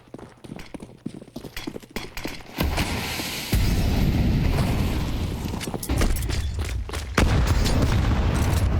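Grenade blasts in Counter-Strike during an ESL Challenger League match between MIBR and RED Canids: loud, booming bursts that roll into a sustained roar, with sharp clicking footsteps and action sounds before and between them.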